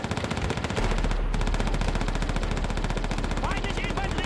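Rifle gunfire crackles in Call of Duty World at War's sniper mission, a dense rapid run of shots with a brief pause, loud and continuous, with a voice heard faintly beneath it.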